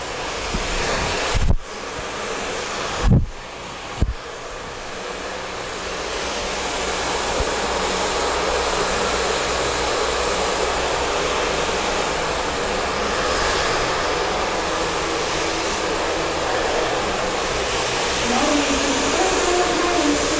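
A hair dryer blows in a steady, loud whoosh throughout a wavy blowout, switching to the cool setting, with a few sharp handling knocks near the start and faint talk underneath.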